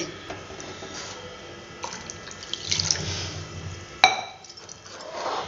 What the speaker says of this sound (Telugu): కొద్దిగా వాటర్ పోసుకున్నానండి